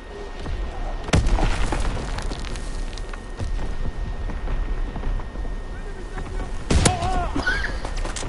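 Heavy artillery shells land in a Call of Duty battle, two loud booming impacts a few seconds apart over constant rumbling combat noise, with a voice speaking during the clip.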